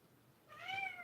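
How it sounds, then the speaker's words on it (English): A house cat gives one faint, rising meow in the second half, after a stretch of near-quiet room tone. "Oh, I don't know if my cat's in here."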